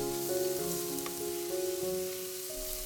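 Minced meat for keema masala sizzles in a hot pan over raised heat, a steady close-up crackle with soft stirring and tossing, the texture constant throughout and no talking.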